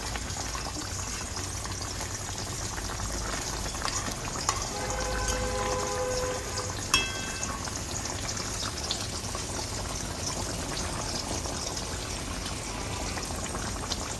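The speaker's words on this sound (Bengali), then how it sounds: "এবার দেখুন ঝোলটাকে টকবক করে ফুটছে" Bengali-style chitol fish curry gravy boils in a pan, giving a steady, fairly faint bubbling and hissing simmer that runs without pause and with no talk.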